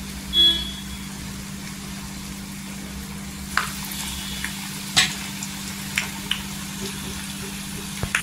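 Vada for cheese vada pav frying in hot oil, a steady soft sizzle with a constant low hum underneath and a few light clicks and pops scattered throughout.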